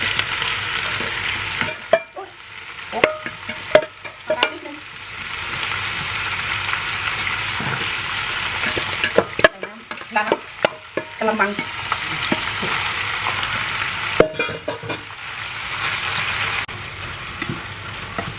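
Seasoned cabbage is stir-fried in a pan with a loud, continuous crackling sizzle, broken by repeated clattering strokes of a spatula, with brief quieter pauses between bursts of tossing.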